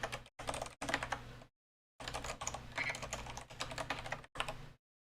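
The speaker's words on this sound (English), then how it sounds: "I'll just keep typing code." Computer keyboard keys clatter in quick close bursts while code is being written, several runs of rapid typing broken by short pauses.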